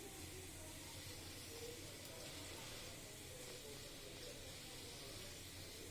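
Pabda fish being added to hot oil hiss and sizzle in a steady, even spray of frying noise, close but quiet, with no clear voices.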